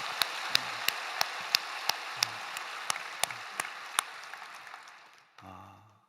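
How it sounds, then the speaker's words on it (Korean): A church congregation at a Friday worship service applauds, a soft, steady wash of distant clapping with sharp rhythmic accents. The applause fades out, and then a low voice begins. "우리 하나님께 우리 다시 한번 영광의 박수 올려드립시다"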